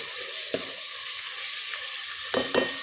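Onions, curry leaves and coriander stirred in hot oil in a pan, a steady close sizzle broken by a few sharp spatula scrapes and clinks, with no speech.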